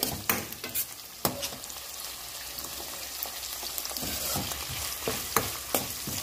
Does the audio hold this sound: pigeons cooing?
no